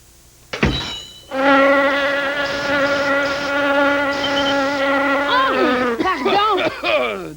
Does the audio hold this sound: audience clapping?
no